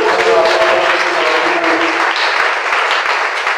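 A church congregation breaks into sustained applause, a dense wash of many hands clapping steadily throughout without pause.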